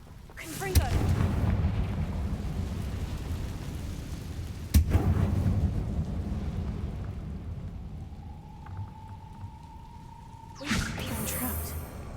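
A Confringo fire spell from the Hogwarts Legacy video game goes off in two deep booming blasts, each followed by a rumbling roll, with a steady tone partway through and another loud burst near the end.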